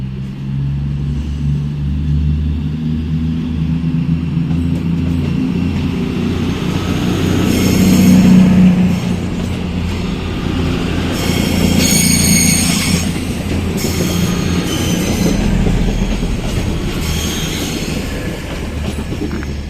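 A diesel Voyager train rumbles past at close range in Birmingham, its engine drone swelling and fading over about twenty seconds with wheel noise and some high squeals.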